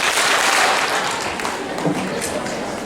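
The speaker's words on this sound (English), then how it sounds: "Let's hear 2 big claps." Applause from an audience at a middle school student candidate speech event, a broad steady wash of clapping heard close and continuous throughout.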